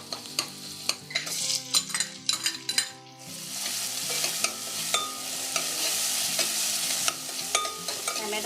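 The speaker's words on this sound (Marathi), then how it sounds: "कांदा लाल होत आला की टोमॅटो टाकायचा आहे, तो चांगला मॅश करून घ्यायचा आपण तेलामध्ये।" Onion and tomato are mashed in hot oil in a pan for a Malvani sprouted horse gram curry: steady close sizzling broken by repeated sharp scraping and tapping strokes of a utensil against the pan.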